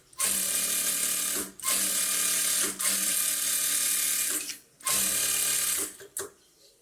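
A sewing machine stitches a blouse lining with a rough edge seam on all four sides, running in four steady mechanical bursts with brief pauses between them and a short final whir.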